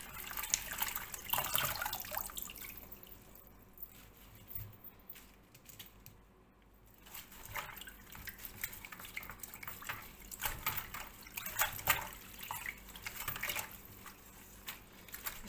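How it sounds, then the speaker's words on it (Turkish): Water splashes and trickles as it is poured out of a bowl of washed grape leaves, soft and close, with quieter dripping moments between the louder pours. "Hemen hemen 2 bazen 3 bölümden sonra suyu mutlaka döküyorum."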